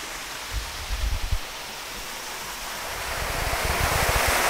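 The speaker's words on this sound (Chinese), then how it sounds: "你看这瀑布的水啊，就从上面这样流下来的。" Water from a waterfall pours steadily at an abandoned Japanese shrine, a broad continuous rush that swells louder toward the end, with a few low thumps early on.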